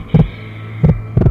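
A loud heartbeat effect thumps close and heavy over a low hum, one beat followed after a pause by a quick double beat, with no voices.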